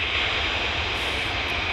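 A Ryanair Boeing 737-800 heads out towards Malaga, heard as a steady, moderately loud jet whine and rumble that holds level throughout the brief stretch.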